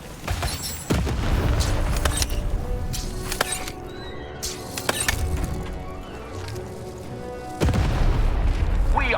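Cannon blasts in the video game Lost in Random: heavy booms hit at about one second and again near the end, with a smaller thump between, over dense, continuous game sound effects and music.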